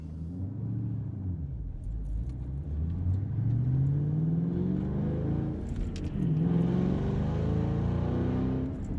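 A 2014 Shelby GT500's V8 engine accelerates through several gears, each rising pitch sweep ending in a shift, with a deep rumbling exhaust throughout.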